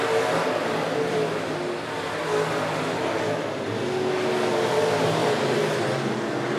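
Race cars roaring down the backstretch at Monett Motor Speedway, a dense, steady engine drone with a rising pitch sweep midway, loud and continuous with no talk over it.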